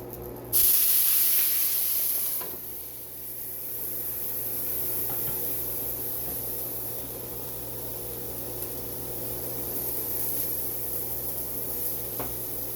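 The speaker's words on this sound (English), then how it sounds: "Alright, I'm going to start the steaming, I think." A sudden loud burst of hissing steam as water hits a hot pan of dumplings, settling into a steady sputtering hiss that continues throughout, close by.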